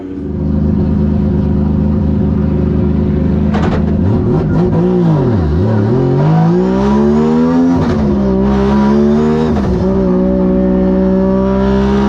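Loud engine revving up and down as a drift car drives hard laps around a track, pitch dropping and rising through turns, with occasional tire squeal.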